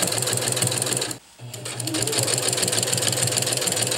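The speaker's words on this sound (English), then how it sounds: "just keeping that needle in the down position really keeps everything coordinated for the long" A sewing machine with a walking foot stitches a long tarp seam, running in a steady loud mechanical rhythm, briefly pausing near the start and then resuming continuously.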